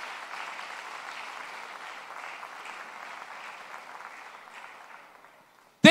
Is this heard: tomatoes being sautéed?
no